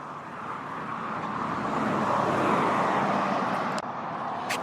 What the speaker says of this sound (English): Mind you, the traffic is pretty noisy. Must be the ferry traffic.